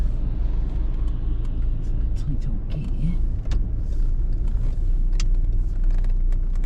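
A car towing a load on a road in Ireland, just back from repair, rumbles steadily from inside the cabin, with a brief voice partway through.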